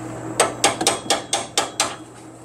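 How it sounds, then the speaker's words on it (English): A hammer tapping a part on the suspension beam of a bay window bus: seven crisp metallic strikes in a fairly even rhythm, close and loud, with no talking. "Might have to, like, get a hammer and tap it down."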